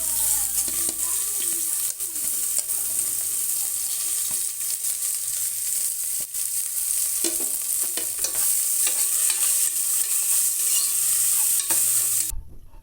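Onions sautéing with curry leaves in a pan for tomato rice, giving a steady, loud, close sizzle with repeated scraping stirs throughout, no voices, cutting off abruptly near the end.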